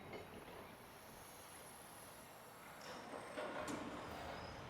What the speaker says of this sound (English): Oh, it's a tram. That's exciting.